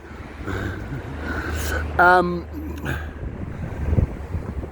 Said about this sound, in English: It's windy, sorry about that.